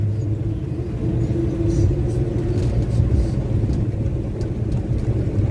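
A 1965 Chevy truck cruising with the choke pulled partway, its engine giving a steady low rumble from inside the cab, with a voice speaking over it.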